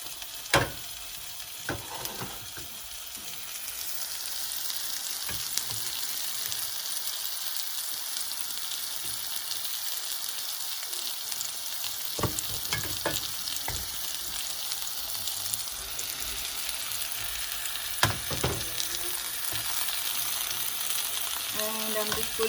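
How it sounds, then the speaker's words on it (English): Mushrooms frying in a pan for a sizzler give a steady, close hiss of sizzling oil, with occasional stirring clicks and scrapes against the pan throughout. "While my mushrooms are being cooked"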